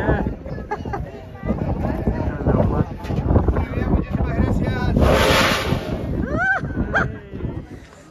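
Gusts of wind at Timanfaya volcano on Lanzarote buffet the microphone in rough, rumbling surges while people chat nearby, with a louder hissing gust midway.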